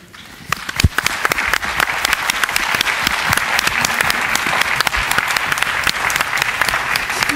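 Audience applause at a 2015 education forum, a dense, steady burst of many hands clapping in a hall that builds quickly and holds strong throughout.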